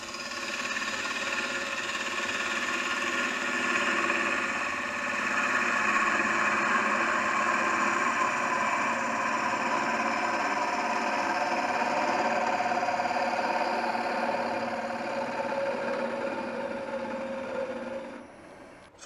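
A wood lathe spins a workpiece while a 5/8 inch bowl gouge with a 16 inch handle cuts it, making a steady, close, continuous whirring scrape that holds even for most of the stretch and fades out at the end.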